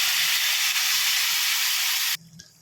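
Ground paste dropped into hot oil already tempered with mustard seeds, cumin and asafoetida for a pirandai and avarampoo pickle, giving a loud, steady sizzling hiss that cuts off abruptly near the end.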